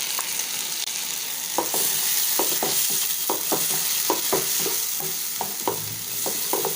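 Onions and green chili frying and being stirred in a pan as ground tomato pulp goes in for an idli dish, with steady sizzling and a run of sharp utensil scrapes and taps spread across the whole stretch, no talking.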